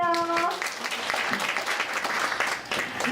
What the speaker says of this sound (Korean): 다 같이 박수 한번 주세요.